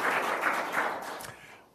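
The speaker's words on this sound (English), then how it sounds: "why don't we welcome him with a round of applause." Audience applause at a wireless technology seminar as the speaker is welcomed, a dense patter of clapping that fades out toward the end with no voices.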